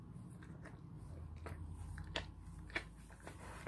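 A dog gnaws and chews at its treated, ointment-smeared injured paw, giving soft close crunching bites with a couple of sharper snaps over low room hum.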